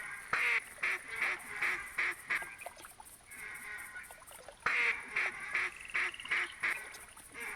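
Mallard ducks quacking in theHunter video game, quick rhythmic bursts, two runs of calls separated by a short lull, fairly clear and close.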